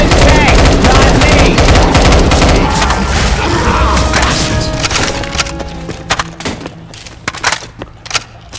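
Dense, rapid automatic gunfire aimed at the Tank in the video game Left 4 Dead 2, loud and continuous at first, then thinning into scattered sharp shots as it fades.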